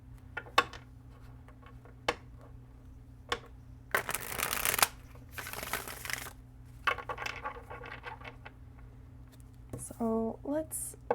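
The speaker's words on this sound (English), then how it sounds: "I feel like I have to shuffle this deck a lot." A deck of cards being shuffled in several bursts of riffling and riffle noise, close and fairly loud, separated by quieter gaps with a steady hum underneath.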